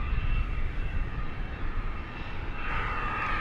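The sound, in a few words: airliner making Wookiee-like noise on runway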